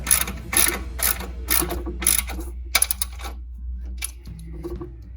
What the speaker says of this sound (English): you tighten up the 4 bolts that we just put in the swing arm into the rear end.